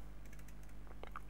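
A few quick keystrokes on a computer keyboard while entering a router configuration command, faint clicks over a steady low electrical hum, with no voice.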